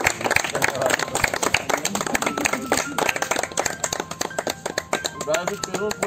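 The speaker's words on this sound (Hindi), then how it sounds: "जोरदार मेरे साथ मिलकर तालियां बजाते" A crowd claps along at a Haryana event honouring Neeraj Chopra's historic achievement, sharp rhythmic hand claps ringing out in quick bursts, loud and near, with voices and chatter mixed in among them.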